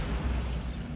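A Bombarda blasting spell explodes in Hogwarts Legacy: one loud, dense, low rumbling blast fills the moment alone, with no voices over it.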